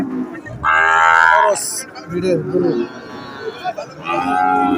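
A Sahiwal bull at a cattle market lets out a loud, close, drawn-out moo, then a second bellow near the end, with low market chatter and rustling between the calls.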